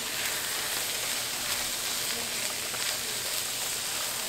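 Cabbage and fat back fry in a pan with a dense, even sizzle that holds steady and close throughout, with no voices.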